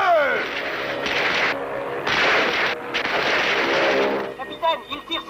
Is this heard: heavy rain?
no